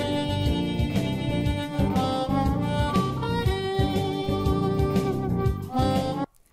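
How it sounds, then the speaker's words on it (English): Blues harmonica plays a lead line over a full backing track with a steady rhythmic beat, loud and continuous, then cuts off abruptly near the end. "the introduction to blues harmonica"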